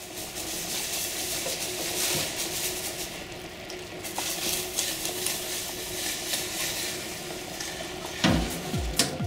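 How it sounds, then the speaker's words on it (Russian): A hot, freshly blued axe head lowered into a bucket of hot water, giving a soft, continuous hiss and bubbling at close range with a faint clunk near the end and no talk. "И слышите, как шипит?"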